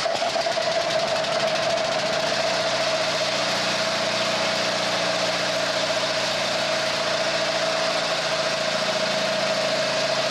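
An engine bolted onto a test mount runs at a steady idle, a continuous loud drone with a strong sustained hum and rapid rhythmic clatter throughout, no voices over it.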